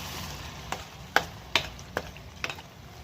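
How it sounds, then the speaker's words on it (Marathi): Masala paste being stirred and sautéed in hot oil for a Malvani fish dish, with a low steady sizzle broken by five sharp spatula scrapes spaced roughly half a second apart, close and alone without voices. "हे वाटण आता छान आपण परतून घेणार आहोत तेलामध्ये"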